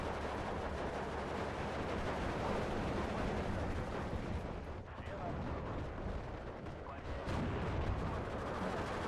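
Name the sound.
incoming gunfire in video game Steel Division 2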